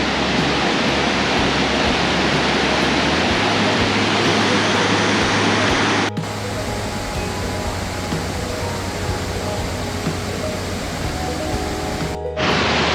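Burney Falls waterfall roaring steadily and loudly from a walking path near the pool, a dense continuous rush of falling water with no break.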